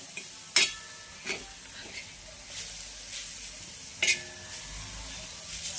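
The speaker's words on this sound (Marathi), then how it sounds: "मध्यम गॅसवर अशी छान अशी तळू द्यायची आहे" Steady low sizzling of garlic chutney frying in a pan over a medium flame, broken by a few sharp scraping clinks of a spoon stirring; no one speaks.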